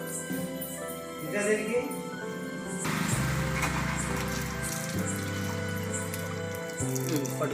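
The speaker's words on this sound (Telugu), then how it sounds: "1 కాదు 2 3 చెంబుల దగ్గర తీసుకొచ్చి అలానే పోస్తూ ఉంది." Water poured from a pot over a Shiva idol at a home temple during evening puja, a steady splashing stream running for several seconds under talk, with a child's and an adult's voices nearby.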